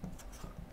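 A pen or marker scratches out a word by hand on a board or page in a short, faint stroke of soft rubbing, heard alone without speech.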